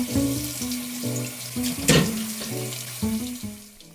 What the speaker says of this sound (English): So let's drain the beef bones and give them a thorough wash.